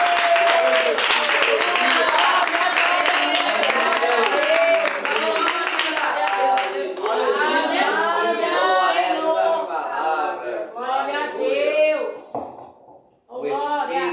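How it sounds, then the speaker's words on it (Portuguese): Church congregation applauding strongly during worship, dense sustained clapping mixed with loud voices, then fading into quieter spoken prayer near the end. "Aplauda o Senhor bem forte."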